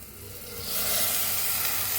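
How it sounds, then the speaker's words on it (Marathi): Hot water is poured into a pan of masala chicken for gravy, setting off a loud, rising sizzle and steamy hiss that swells after a moment and holds steady to the end, with no voices. "पाणी गरम झालंय आता ह्याच्यात ओतून घेऊया आपण"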